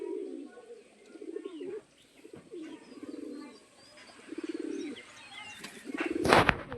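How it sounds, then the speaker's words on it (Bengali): Pigeons on a rooftop coo repeatedly in low, throaty rolls, several bouts spread across the clip, with a sharp rustle or flap of noise near the end. "ওই ছাদের উপরেও কবুতর আছে এই জন্যই বারবার ঘুরপাক খাচ্ছে"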